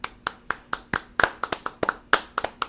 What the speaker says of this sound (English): Let's clap it up for the boys real quick.